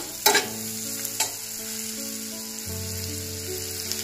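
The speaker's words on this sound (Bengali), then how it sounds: "পেঁয়াজটা একটু ভাজা ভাজা হোক" Chopped onion and chilli fry in hot butter in a pan, giving a steady close sizzle with a few sharp stirring scrapes near the start, and no talking.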